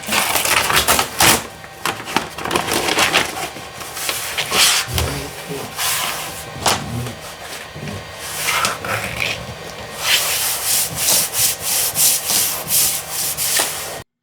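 A scraper rubbed across paper laid on a wooden American of Martinsville dresser to press out bubbles, giving repeated close, rasping strokes in short bursts with brief pauses between them.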